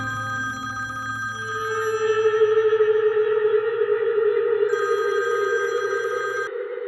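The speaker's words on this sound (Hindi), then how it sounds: "तुम्हारे फोन पे बार बार किसकी कॉल आ रही है?" An incoming call makes a phone ring loudly and steadily with an electronic, echoing, slightly distorted ringtone that repeats in even cycles, with a low sustained tone running underneath and no talking.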